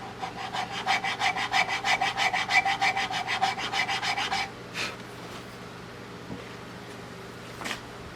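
Wood is filed from a bandsawn Turkish walnut gunstock for a Carl Stiegele 16-gauge shotgun in fast, even rasping strokes, close and steady for about four seconds, then a few faint knocks and scuffs.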